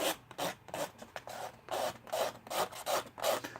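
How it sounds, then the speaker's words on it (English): Scraping the striker strip off a matchbox to collect match powder, a quiet, rhythmic rasping of about eight short strokes close to the microphone. "Now, the striker part. Just scrape some of that down in there now."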